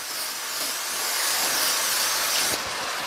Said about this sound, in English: I'm going to give it a good spray